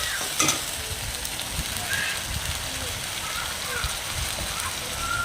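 A spice mixture added to sautéed almond and green chili paste in a pan for rohu fish in yogurt, with a brief clatter at the start, then steady sizzling and stirring scrapes while someone talks.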